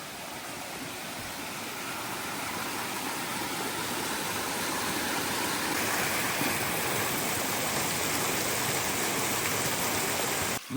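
A mountain stream at a trail water source under a thick rhododendron canopy on the Appalachian Trail after rain rushes steadily and close, a dense unbroken wash of flowing water with no voices.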